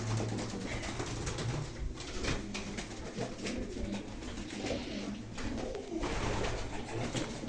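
Pigeons in a coop coo steadily and softly, several birds overlapping close by with a continuous low murmur and no talking.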